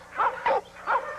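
Several dogs in a kennel yard give three sharp, loud barks in quick succession, close by, with no talking.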